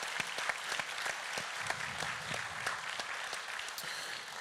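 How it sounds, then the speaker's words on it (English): Audience applauding at a public talk on a voice to parliament, a steady dense patter of many hands clapping with a few louder claps poking through. "So please give Brodie another round of applause."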